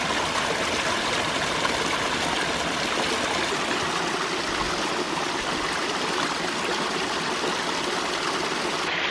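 Water rushes steadily into a micro hydro Coanda screen intake built among rocks, a continuous loud, broadband flowing roar that holds evenly from start to finish, with no voices over it.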